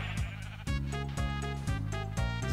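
Colourful Minecraft sheep bleating, four loud, close, evenly spaced bleats in quick succession, each a short wavering cry.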